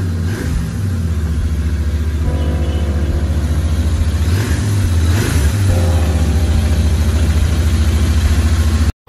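A new Royal Enfield Interceptor 650 motorcycle idling close by, a loud, steady low engine throb with slight rises in revs partway through and no voices over it.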